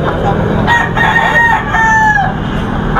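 A Maclean Claret gamecock crows loudly and close by, one drawn-out cock-a-doodle-doo over a noisy outdoor cockpit or farm background.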